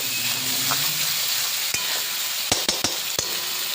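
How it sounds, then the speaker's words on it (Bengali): Ground spices sautéing in hot oil for a Boal fish curry, a loud continuous sizzle with several sharp spatula clicks against the pan near the end. "ভালো করে কষাতে হবে"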